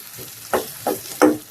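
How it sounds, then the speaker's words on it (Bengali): Jute leaves frying in a pan with Bombay chilies, giving three distinct sizzling bursts as ingredients are stirred, over a faint steady hiss with no talking. "এটার মধ্যে যে পাট শাক ভাজি বসাই দিতেছে বোম্বাই মরিচ দিয়া।"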